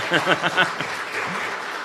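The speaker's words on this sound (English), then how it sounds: "Go on. Applaud." An audience at an ecosocialism conference session breaks into applause, a dense, steady patter of clapping that rises right after a voice and carries on evenly to the end.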